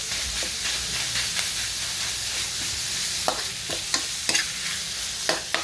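Ground pork frying in a pan, stirred steadily: continuous loud sizzle and hiss with scattered scrape-and-clink strikes of a utensil toward the end, no voices.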